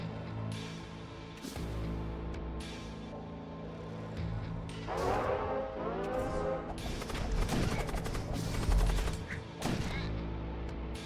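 A storm cannon and a grav cannon fire aboard ships in Void War, with repeated punchy shots and crashing impacts that build into a dense, rapid burst of fire.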